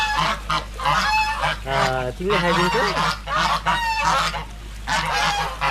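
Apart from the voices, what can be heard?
ducks or geese honking loudly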